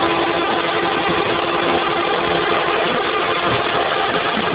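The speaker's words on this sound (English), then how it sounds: "The motor operates at high RPM." A magnetic 20 kW motor spinning at high RPM, heard as a steady, loud, even whir with a constant tone and no breaks, running alone without any voices.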